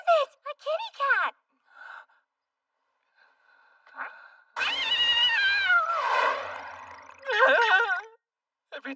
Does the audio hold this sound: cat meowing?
yes